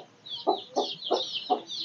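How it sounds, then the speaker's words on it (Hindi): A hen clucks in short, repeated bursts, four or five in a row, with higher chirping from her chicks running over the top, in a Pakistani village home. "ये हमारी मुर्गी,"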